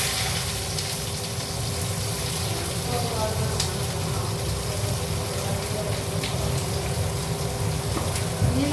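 Chopped onions fry in a pan for biryani, giving a steady, dense sizzle that holds evenly throughout, with faint background voices.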